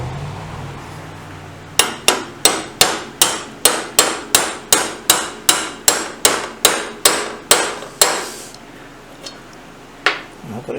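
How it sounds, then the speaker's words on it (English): A hammer drives a heated bearing into place with a drift during work on a BSA B50T motorcycle. About seventeen sharp, evenly spaced metallic blows ring out close, then stop, followed by one last strike. "So let me warm this up and then we'll drift this bearing in."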